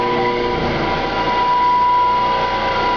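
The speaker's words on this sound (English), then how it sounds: "There goes the motor." Electric car motor spun up on a test bench gives off a loud, steady mechanical whine with a sustained high tone over dense broadband hum, continuous for the whole stretch.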